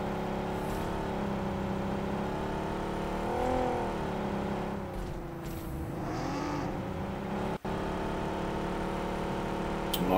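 A car engine in a video game revs and drones steadily, its pitch rising and falling as the car drives, with a brief sharp click partway through.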